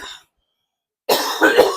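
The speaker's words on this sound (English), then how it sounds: "Sorry for the coughing" A brief cough, then silence, followed by a louder burst of harsh coughing and throat clearing close to the listener.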